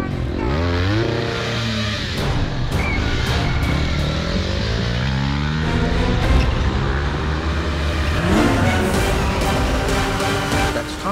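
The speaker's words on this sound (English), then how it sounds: "阿汤哥没戴安全帽，在巴黎大街小巷飙重机" Motorcycle and a dense stream of cars racing through Paris streets and around the Arc de Triomphe during a film stunt, engines revving and sweeping past continuously with loud, layered acceleration and pitch shifts throughout.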